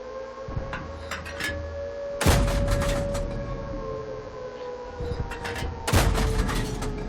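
A Pz Kpfw IV Hydrostat in World of Tanks fires its cannon twice, each a loud, sharp boom with a decaying tail over a steady engine hum and faint clanks.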